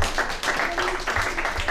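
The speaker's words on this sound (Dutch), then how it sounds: "mag ik dan een geweldig applaus voor onze gastvrouw Melanie Bol" Audience applause for hostess Melanie Bol at the unveiling of a memorial plaque, a steady wash of clapping with some voices mixed in.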